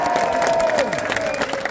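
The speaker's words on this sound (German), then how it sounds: "Danke für den Applaus." Applause and cheering from a large crowd at Borussia Mönchengladbach's squad presentation, a dense, sustained wash of clapping with a tonal whistle or horn line drifting over it.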